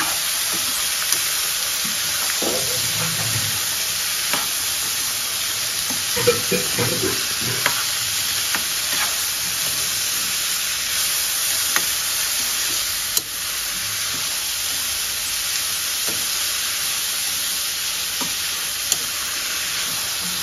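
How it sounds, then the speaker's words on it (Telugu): Chopped bottle gourd with green chillies fries in a pan while being stirred, giving a steady sizzling hiss with brief scraping stir sounds near the start. "సో మనం మొత్తం నీట్గా కలిపేసుకోవాలి పొట్లకాయల్ని"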